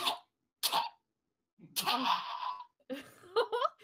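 A voice imitates a small creature coughing: several short, raspy coughing bursts separated by silences, close and fairly loud.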